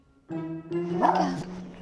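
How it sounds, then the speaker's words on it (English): A dog in a home kitchen gives a short whimpering yip and a soft bark, a single brief vocal burst heard close and moderately loud. "did you get a dog?"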